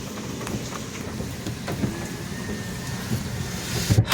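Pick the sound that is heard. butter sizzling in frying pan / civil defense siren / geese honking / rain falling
rain falling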